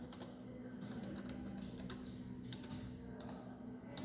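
Quiet computer keyboard typing an HTML image tag, with light irregular key clicks over a faint steady background hum.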